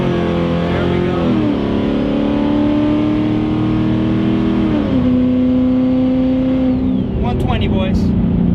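A turbocharged 2014 Ford Mustang pulls hard at full throttle, its loud engine note climbing steadily, dipping briefly at two gear shifts, then rising again.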